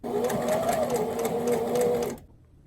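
Sewing machine hemming a dress during a thrift flip, a steady close whirring hum with a faint rhythmic stitching pulse that runs for about two seconds and then cuts off abruptly.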